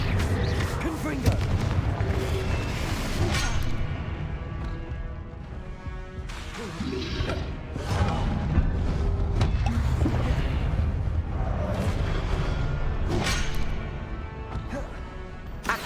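Fiery explosive Confringo spells cast over and over in the Hogwarts Legacy video game, producing repeated booms and crashes within a dense, continuous wash of game sound with no pauses.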